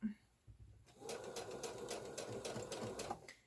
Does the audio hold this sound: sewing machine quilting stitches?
yes